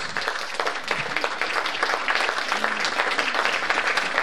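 Audience applause at a closing conference of a French business forum, a dense, even patter of many hands clapping fairly loud and continuous throughout, with faint voices underneath.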